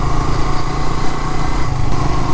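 A Suzuki GSX-R motorcycle riding along a muddy, badly rutted village road, its engine a loud steady drone heard up close with wind rumble and no talk.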